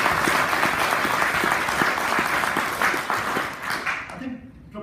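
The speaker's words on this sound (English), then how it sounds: "So if we can have a round of applause for them." A meeting audience applauds, a steady round of clapping that carries on for several seconds before fading out.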